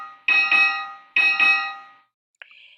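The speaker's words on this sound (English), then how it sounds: "That was not your bell, by the way." School bell rings in two close, loud electronic double-chime bursts, each ringing out and fading, then a brief fainter tone follows.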